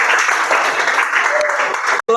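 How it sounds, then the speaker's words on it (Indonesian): Applause from a classroom audience for a student group, brisk steady clapping at close range that cuts off abruptly near the end, with a voice briefly heard. "Tepuk tangan untuk kelompok 4."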